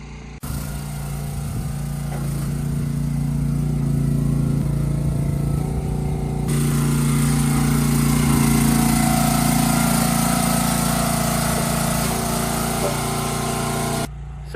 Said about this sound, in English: We had rented a wood splitter from one of our neighbors, and we got quite a bit done.